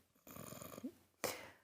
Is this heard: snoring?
yes